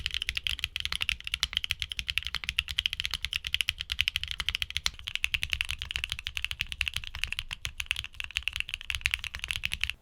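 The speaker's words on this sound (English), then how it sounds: "the Macchiato switches deliver a distinctive sound profile characterized by high-pitched and clacky feedback" Steady rapid typing on a mechanical keyboard fitted with HMX Macchiato switches, giving a continuous run of high-pitched, clacky keystrokes that sound close and clear.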